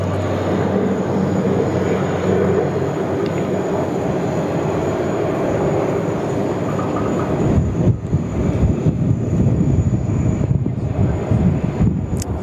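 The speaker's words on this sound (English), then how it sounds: "Look at this, parallel Dash 8 departures." Dash 8 turboprop aircraft depart in parallel at Sydney Airport, a loud, steady engine roar that fills the scene and builds in rumble toward the end, with wind buffeting the microphone.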